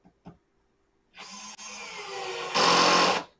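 An impact drill on setting 1 driving in, a steady close whirring hum that swells into a louder, harsher grinding roar for its final second before cutting off. Two faint clicks come first.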